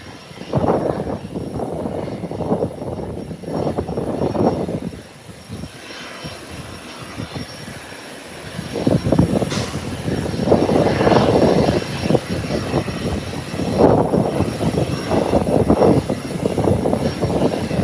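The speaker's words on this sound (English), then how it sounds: "Yes, there's another aircraft coming in." An airplane approaching to land roars steadily throughout, a loud, sustained engine drone that dips briefly midway and then swells again, heard alone with no talking.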